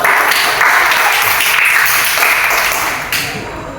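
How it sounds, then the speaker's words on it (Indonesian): Students clapping together in a classroom at the teacher's prompt, a loud close burst of applause that holds steady and then tapers off near the end. "tepuk tangan dulu"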